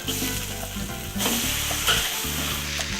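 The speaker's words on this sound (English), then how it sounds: "Into the wok goes some oil, sesame oil, ginger and garlic." Vegetables stir-frying in a wok with oil, sesame oil, ginger and garlic, plus onions, red pepper, cabbage and bok choy, sizzle loudly and steadily throughout, with occasional scraping stirs and no talk.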